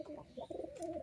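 A pigeon gives a short, soft, low coo close by, quiet and brief with faint background noise.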